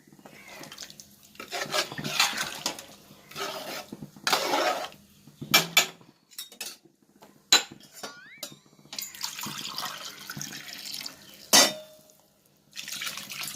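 Glassfuls of water are poured onto cumin samba rice in a pot for mutton biryani. The pouring comes in repeated splashing bursts, mixed with clinks of metal vessels and utensils, and no one speaks.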